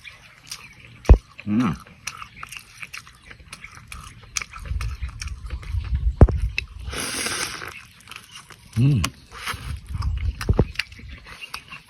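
Several loud, sharp crunchy bites into fried chicken skin spaced apart, followed by chewing, with quiet stretches between them.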